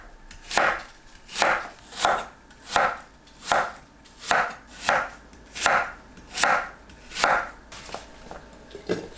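Apples being sliced with a knife into half-centimetre slices, about ten evenly spaced, crisp chops on a board in a steady rhythm, close and clear with no voices.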